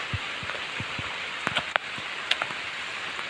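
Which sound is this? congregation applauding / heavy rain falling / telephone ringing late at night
heavy rain falling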